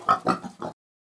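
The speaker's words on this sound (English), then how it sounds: "Pig." Pig oinking in an animal sound app game: four quick, short grunting snorts in a rapid burst lasting under a second, close and fairly quiet, with nothing else heard.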